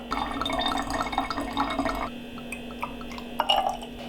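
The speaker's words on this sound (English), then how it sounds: "now some vinaigre de vin blanc, white wine vinegar" White wine vinegar pours into a vinaigrette of olive oil and basil paste, a quiet trickling liquid sound for about two seconds, followed by faint drips and small clinks.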